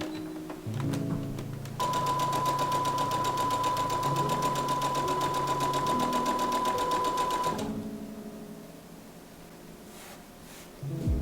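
A sewing machine runs in one steady, continuous burst of about six seconds, stitching a straight seam on an upcycled sweatshirt collar, then stops. Quieter handling noise comes before and after, with no talking.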